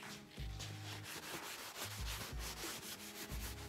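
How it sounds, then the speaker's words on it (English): Sandpaper rubs over a wooden utensil to remove raised rough grain, a close, steady rasping in quick back-and-forth strokes with no talking. "now all you have to do is sand that off, and now the roughness goes away"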